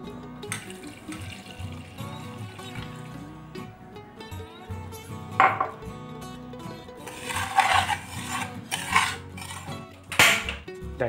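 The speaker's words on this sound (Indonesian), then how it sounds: "Dan ini dimasak menggunakan api kecil sambil terus diaduk." A spoon scrapes and clinks against a pot while biscuit batter of sugar, baking soda and milk is stirred over low heat, with intermittent metallic knocks and louder clatters toward the end, no voices.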